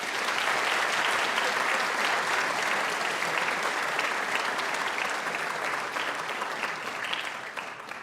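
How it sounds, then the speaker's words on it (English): Sustained, dense applause from a large audience at a high school senior awards ceremony, honoring scholarship recipients, steady throughout and tapering slightly near the end. "So let's give them all a round of applause."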